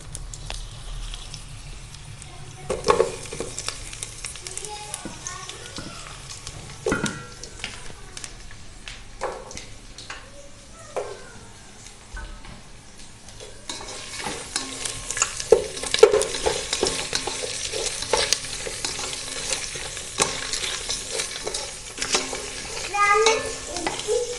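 Green chillies and onions frying in oil for bagara rice, a sizzle that swells when they go into the pan, with intermittent spoon clatter and stirring against the pot, no talk.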